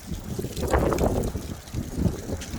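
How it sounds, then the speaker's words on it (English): Gusty wind buffeting the microphone beside a 2022 Genesis GV70, producing low rumbling thumps that rise and fall irregularly. "I'm trying to shield you from the wind a little bit."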